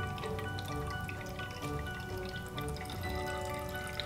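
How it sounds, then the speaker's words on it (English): Distilled water, about 45 milliliters, is poured into a graduated cylinder, giving a steady trickling pour with a faint rising ringing tone throughout. "So I've got my graduated cylinder here, okay, and I'm going to put in 45 milliliters of water."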